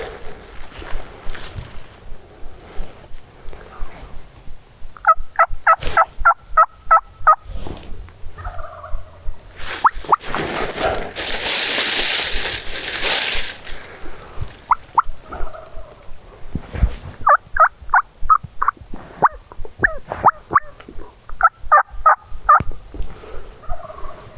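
Wild turkeys roosted nearby gobble repeatedly in rattling bursts, moderately distant, with rustling movement and a windy whoosh in between, during a public-land turkey hunt.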